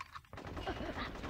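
Gunfire from snipers in the video game Conker's Bad Fur Day, a loud burst of rapid shots and impacts that rises after a quiet opening and continues without break through the clip.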